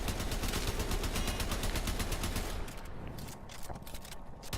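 The Tiberon Prime rifle fires in Warframe in rapid, evenly spaced automatic shots, loud and close, then thins into quieter, sparser shots and mechanical clicks.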